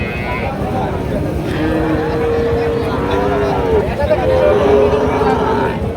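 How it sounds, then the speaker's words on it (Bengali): Sahiwal breed cattle moo at a livestock market, with long, loud, close lowing calls over a steady babble of crowd voices. "এগুলা সব সাইওয়াল সব সাইওয়াল বিটের গরু"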